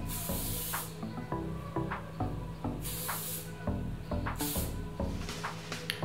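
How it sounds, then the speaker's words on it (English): Several sharp hissing bursts of an aerosol hair shine spray, a few quick short sprays between longer ones, close to the microphone. "I'm gonna put some shine spray on."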